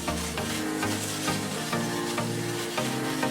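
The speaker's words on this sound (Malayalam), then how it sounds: "ഇതിലോട്ട് കുറച്ച് തേങ്ങാപ്പാൽ ആഡ് ചെയ്ത് കൊടുക്കാം" Coconut milk goes into fish masala for Kerala meen pollichathu, and the pan sizzles and bubbles in a steady frying hiss, with stirring scrapes underneath and a kitchen hum throughout, close and fairly loud.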